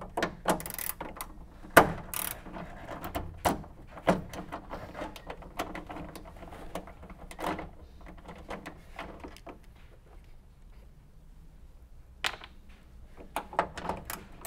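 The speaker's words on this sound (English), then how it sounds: "We're going to take our ratchet with the size 10 socket on there and we're going to take these" Ratchet with a 10 mm socket backing out trunk latch bolts on an Acura TL, scattered close clicks and clunks with quieter mechanical rattling between.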